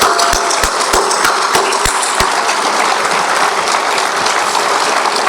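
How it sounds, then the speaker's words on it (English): Round of applause at an annual community gala as the audience rises to honor a nun's service, dense steady clapping filling the room with a few sharp bangs early on, no speech over it. "let's please rise and give a big round of applause"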